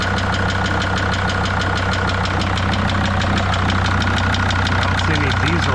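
A 2006 Mercedes Sprinter T1N diesel engine idling close by with a sharp, rhythmic injector tick, a steady metallic clatter over a constant low rumble throughout.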